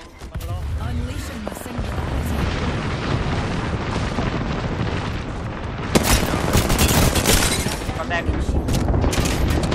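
Gunfire in the video game Apex Legends: dense, loud bursts of automatic fire and impacts roll on almost continuously, growing heavier toward the end, with someone talking over the shooting.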